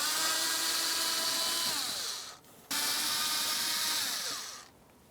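A power screwdriver whirs steadily in two runs, winding down each time, as it backs Phillips-head screws out of a glove box interior panel in a 2000-2005 Buick LeSabre. The sound is close and loud with no talk.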